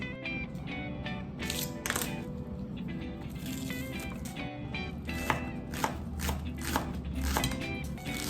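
Carrots are cut into cubes with a knife on a board, giving a quick run of crisp, close chopping taps that come in irregular bursts throughout.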